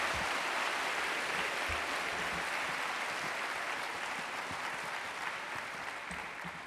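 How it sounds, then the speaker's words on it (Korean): A church congregation at a Sunday worship service claps to welcome a pastor, a broad, continuous wash of applause that stays even and full for several seconds, gradually easing slightly toward the end. "제2기 분립개척교회로 준비하고 계시는 우리 박세동 목사님 나오실 때 큰 박수로 맞이하겠습니다"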